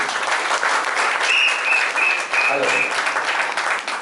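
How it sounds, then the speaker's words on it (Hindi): At a residential business training session, a packed hall breaks into loud, sustained applause for a participant named Bhavesh, with voices mixed into the steady clapping. "जोरदार तालियां भावेश के लिए।"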